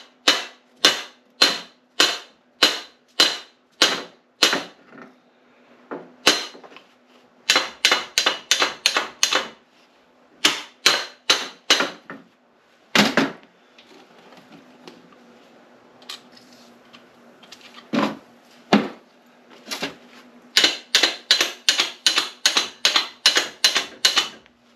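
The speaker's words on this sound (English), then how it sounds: "Of course, when I'm banging that, I'm banging it against that alloy," Light metal taps against an alloy part while retrieving a 1928 item: rapid bursts of sharp, close clicking taps in quick runs, pausing between groups, with a low steady hum underneath and no voices.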